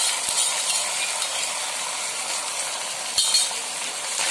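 Soybean Manchurian is stirred with sauce in a pan over a low gas flame, making a continuous hissing sizzle with light scraping. Two sharp clicks of the utensil stand out.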